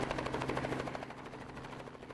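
A helicopter hovers during a beer-bottle-opening feat at a helicopter tournament in China, giving a dense, continuous rotor chop with a rapid pulsing beat, loud and close, with no talk.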